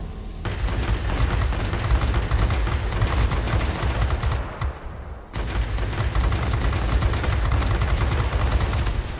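Sustained rapid aircraft machine-gun fire aimed at a bomber in World of Warplanes, a loud dense rattle of bursts that briefly cuts out near the middle and then resumes.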